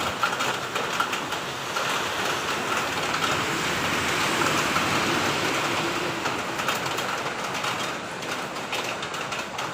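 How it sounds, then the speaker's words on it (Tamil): Heavy rain pours outdoors as a steady, dense hiss that stays loud and unbroken throughout, with no voices over it. "இப்போ நாங்கள் இப்படி வெளியே வந்ததுமே பயங்கர மழைங்க, செம்ம மழை."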